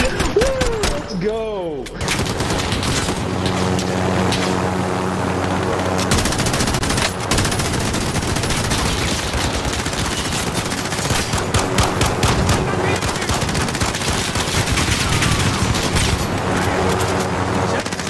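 Loud automatic gunfire from Call of Duty Warzone rattles in rapid, near-continuous bursts for the whole stretch, with voices mixed in under the shooting.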